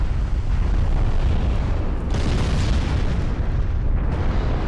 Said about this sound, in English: broadside on to all those 15-inch guns